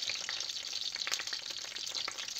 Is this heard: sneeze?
no